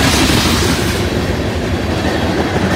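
A loaded BNSF coal train rolls past close by, a loud, steady rumble of railcars and wheels with faint clicking, briefly brighter at the start and then settling into an even roar, with no voices.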